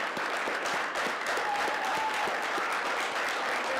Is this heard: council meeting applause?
yes